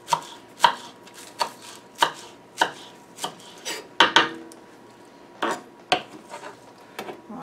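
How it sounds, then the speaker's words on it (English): A knife chops squash or vegetables on a cutting board for butternut squash soup, giving about a dozen sharp, close knocks in an uneven rhythm with short pauses between bursts, and no one speaking. "I'm going to chop up a little more."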